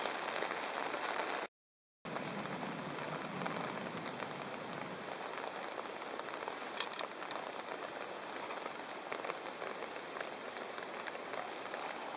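Steady rain falls on a surface outdoors, with slushy hail coming down during a wet crown land trip. It makes a dense, even hiss throughout, and a few sharper drop ticks stand out partway through.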